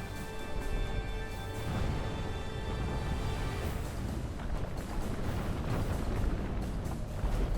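Cannon fire pounds stone walls during a Roman Empire era Total War siege, a dense, continuous roar of booms and crumbling impacts, loud throughout, with a faint sustained musical drone in the first half.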